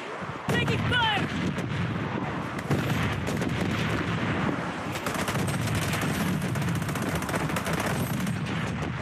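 Constant heavy gunfire in the shooter BloodStrike, dense overlapping shots and booms with no letup, loud and chaotic, with game voice callouts mixed in.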